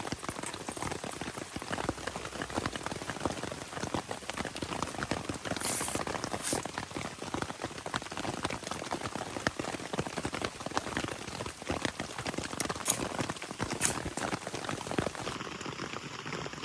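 Steady rain pattering on a camping tarp, a dense, continuous patter with occasional louder drips, close by and with no voices.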